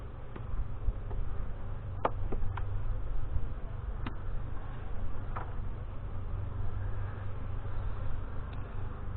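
Honey bees drone in a steady low buzz around an open hive during an April inspection, with a few faint clicks and taps of frames handled nearby, continuous and moderately quiet throughout.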